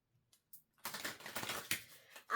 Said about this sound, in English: I'm only going to shuffle this one once.